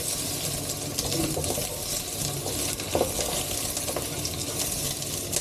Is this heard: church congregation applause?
no